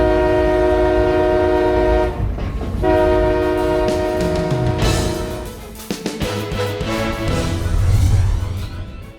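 A train passing a rail crossing sounds its horn in long, loud sustained blasts, then the rumble and clatter of wagons rolling by close up continues, with wheels squealing and the horn returning briefly near the end.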